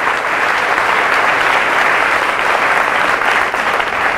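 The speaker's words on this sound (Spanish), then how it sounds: "Fuertes aplausos al Rey de Reyes y Señor de Señores." A church congregation bursts into loud, sustained applause, dense and even throughout, a continuous wash of clapping hands with no break.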